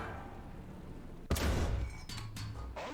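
Tank cannon fire in War Thunder: one sharp, loud shot with a booming tail, then smaller rattling impacts and clanks.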